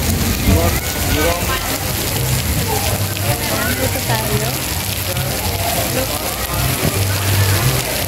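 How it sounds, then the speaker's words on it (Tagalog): Heavy rain pours steadily on a forest stream trail in a dense, continuous hiss, with a person speaking briefly underneath. "Ang lakas na ng ulan."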